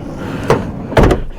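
A car door gives a quick thud, then a heavier double-thunk as it shuts, loud and close, with no voices.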